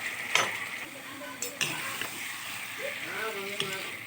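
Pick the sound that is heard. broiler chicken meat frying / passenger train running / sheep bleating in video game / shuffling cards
broiler chicken meat frying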